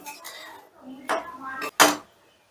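Masala paneer being stirred with ghee and coriander leaves in a pan, with a few distinct scraping and clattering bursts of a utensil against the pan and softer stirring between them, close by and fairly loud.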